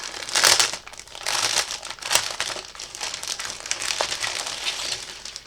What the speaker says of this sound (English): let's see what we got in the bags here